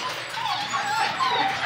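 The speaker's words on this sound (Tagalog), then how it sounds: "Ito, meron tayo dito Jack Russell." A six-month-old female Jack Russell terrier at a pet market whimpers and yips continuously in high, wavering cries, close and fairly loud over background chatter.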